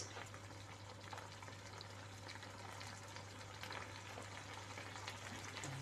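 Corned beef with egg fries in a pan, giving a faint, steady sizzle and bubbling crackle with a low hum underneath and no talking.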